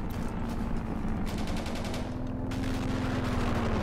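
Sustained gunfire in Honor & Duty: D-Day, a World War II shooter, rattles in dense, even bursts at moderate distance over a steady humming drone.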